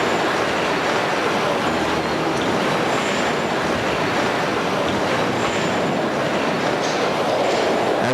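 A train rumbles steadily at a station platform, its broad continuous roar of wheels and rails filling the whole stretch with faint squeals and clacks, loud and close, with no talk.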